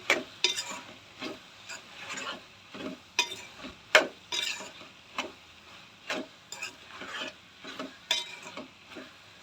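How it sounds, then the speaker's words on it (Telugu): Tomato chutney being stirred after salt is added, with a spoon scraping the pan in a steady series of close strokes over a soft sizzle; no talking. "ఇప్పుడు దీంట్లోకి సాల్టు సరిపడా వేసుకొని బాగా కలుపుకోవాలి"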